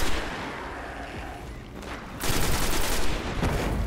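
Gunfire in Destiny on PS4 inside an underground necropolis, scattered sharp shots at first, then a loud, sustained burst of rapid fire in the second half.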